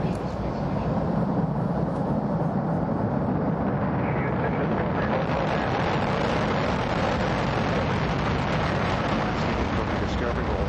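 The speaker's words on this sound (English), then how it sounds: "We have booster ignition and liftoff of the Space Shuttle Discovery, lighting up the nighttime sky" Space Shuttle Discovery lifting off at night on mission STS-116, a continuous deep, loud roaring rumble that holds steady and dense throughout with no pauses.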